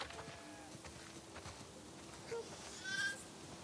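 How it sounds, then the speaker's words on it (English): Sheep bleat a few times on a farm in the video game The Last of Us Part II, short bleats rising over a low steady ambient hum, moderately close but fairly quiet. "Listen up, sheep."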